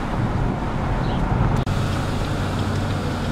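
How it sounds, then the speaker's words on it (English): Steady wind buffeting a microphone outdoors, a loud continuous low rumble and rush with a brief dropout partway through, no voices. "Enjoy the wind in my hair."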